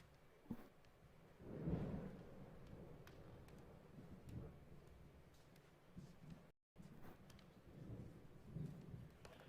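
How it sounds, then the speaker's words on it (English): Low rolling thunder rumbles through a quiet scene, swelling near the start and fading into a steady distant growl, with faint rain-like texture underneath and a brief dropout midway. "hearing that thunder reminds me"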